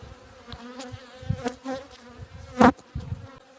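Honeybees in an opened hive during a midwinter inspection, a low buzzing hum with scattered close-up buzzes and knocks of frames, no talk.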